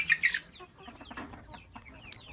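Silkie chickens cluck inside an enclosed barn stall, a loud burst of high clucking at the start followed by softer scattered calls and chatter from the flock.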